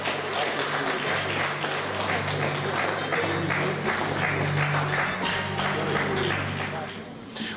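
Steady audience applause fills a hall at a Lithuanian award ceremony as a first-place master is announced, a dense, even clapping texture lasting throughout before tapering slightly at the end.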